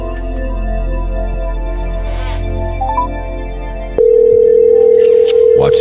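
A steady telephone dial tone cuts in abruptly and holds loud and unbroken after a stretch of humming background with faint voices.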